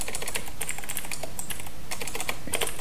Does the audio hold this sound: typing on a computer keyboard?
yes